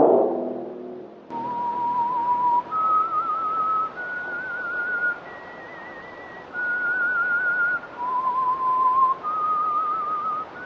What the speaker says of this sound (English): Let that whistle be your signal from the Whistler each Wednesday night at this same time.